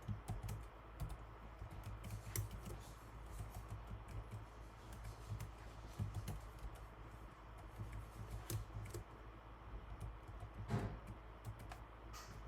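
Close, steady typing on a computer keyboard as a password is entered, a continuous patter of soft key clicks with occasional sharper taps, no voices.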